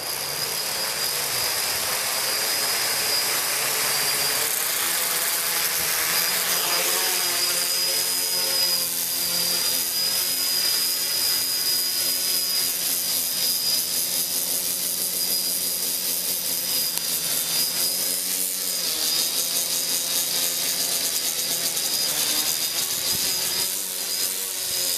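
Small drone flying close by, a loud, steady high-pitched propeller whine with shifting buzzing tones that holds throughout without pause.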